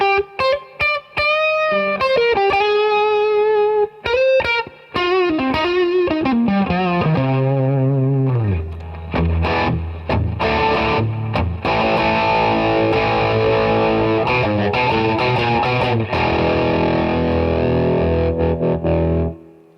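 A heavily distorted electric guitar plays through a Roland Blues Cube Artist amp, starting with crisp picked notes and bends, then building into thick, loud sustained chords.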